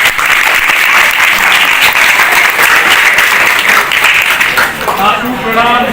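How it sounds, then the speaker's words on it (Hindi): An audience at a stage play claps loudly and continuously, a thick dense wash of applause that thins out near the end as a voice emerges. "इन सब के लिए जोरदार ताली बजाओ"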